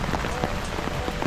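Steady rain falling through a forest in Switzerland, a dense even patter of drops on leaves and ground, close and unbroken, with a faint voice beneath.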